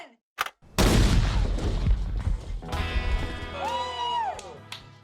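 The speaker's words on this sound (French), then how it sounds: "Voici l'explosion qui va déclencher les carabines SKS." An explosion set off on a test range to trigger SKS rifles, one loud broadband blast followed by a long rumbling decay and sustained ringing tones, with a short sharp pop just before it.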